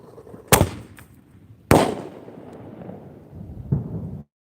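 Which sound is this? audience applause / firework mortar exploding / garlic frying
firework mortar exploding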